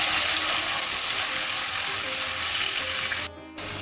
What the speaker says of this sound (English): Immediately I will add my mutton in it, and I'm going to fry this mutton till it changes color.